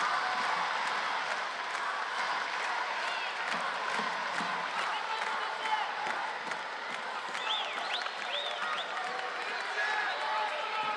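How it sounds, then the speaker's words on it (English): A home crowd in an arena at the 2019 Baku judo Grand Slam roars and cheers steadily throughout, with whoops, scattered whistles and clapping in a dense, constant wall of noise. "And all the cheering is for him"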